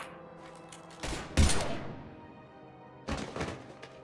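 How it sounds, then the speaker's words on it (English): Sci-fi gunfire rattles through a Mass Effect 3 battle, loud broadband bursts of shots near the middle and again toward the end, with quieter gaps between and no talking. "Now open fire!"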